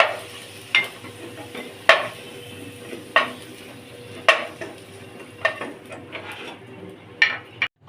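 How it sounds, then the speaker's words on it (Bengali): Potatoes are stirred and fried in a pan, a soft sizzle underlying sharp, evenly spaced scrapes and clinks of a spatula against the pan, about eight strokes. "আলুগুলি নেড়ে চেড়ে লাল লাল করে ভেজে নিয়েছি।"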